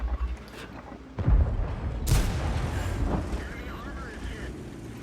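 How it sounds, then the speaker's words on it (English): Tank cannon fire from a T26E5 in a battle game: a heavy boom just after one second and a second sharp blast near two seconds, each trailing into rumbling battlefield noise with a voice talking over it. "Starts to put some shells down range."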